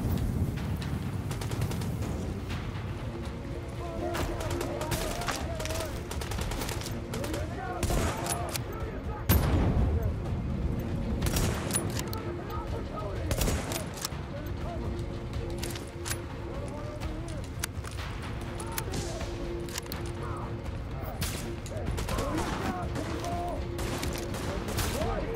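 Dense video-game gunfire from The Division, bursts and volleys in a shooter firefight, continuous throughout with a louder spike midway, mixed with faint game sounds and a little speech.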